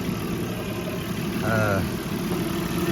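An Audi engine idling steadily after a timing belt correction, a smooth continuous hum with no misfire, close by, with a brief tonal whine partway through.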